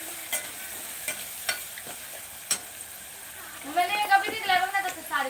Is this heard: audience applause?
no